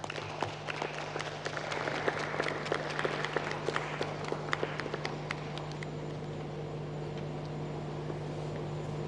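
A room of people claps to welcome Professor Charles Barner, Pro-Vice Chancellor, on the campus of the University of Professional Studies, Accra. The scattered, fairly faint claps thin out toward the end over a steady low hum.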